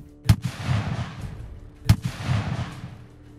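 Two loud rifle shots ring out on a kudu hunt, each a sharp blast followed by a rolling echo, spaced about a second and a half apart outdoors.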